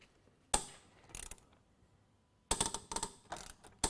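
Sharp cracking bursts from a threaded component breaking under load in a powered wrench test: one crisp snap, a short cluster, then a dense run of loud cracks near the end, close and without talk.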